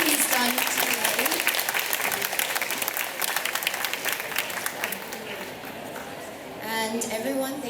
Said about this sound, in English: can I please have a round of applause for Dr. Khan